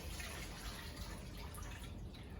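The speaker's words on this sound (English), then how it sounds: "fresh water from the tap" Fresh tap water runs steadily into a stock pot, a close, continuous rushing splash that stays even and unbroken throughout, with no talking.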